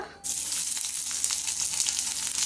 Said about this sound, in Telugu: బాయిల్ చేసుకున్న ఎగ్స్ కొంచెం ఆయిల్ పోసుకొని కాగిన తర్వాత